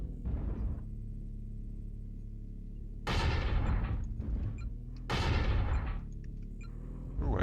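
Three loud mech shotgun blasts firing pellets in MechWarrior Online from an RFL-3C, each a sharp boom with a rolling tail, spaced a few seconds apart over a low engine hum.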